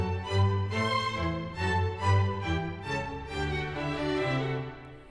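Violins play the opening four bars of the third movement of Mozart's Eine Kleine Nachtmusik, a clear, steady melodic phrase of sustained notes heard alone at moderate volume.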